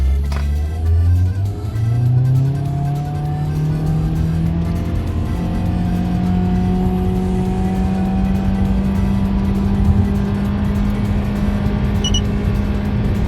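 A Mitsubishi Lancer 10 with a 1.8 engine and CVT accelerates hard toward 100 km/h, its engine drone rising smoothly and steadily in pitch without distinct gear shifts, loud and continuous throughout.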